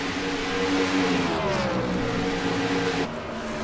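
A sim racing game car's engine drones steadily and loudly with layered harmonic tones, pitch shifting slightly as it heads into turn one, continuous throughout with a brief dip near the end.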